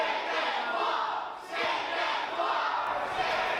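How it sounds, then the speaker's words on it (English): Wrestling crowd at an intergender championship match, a dense roar of many voices rising in a steady chant, loud and close, dipping briefly before swelling again. "The crowd chanting"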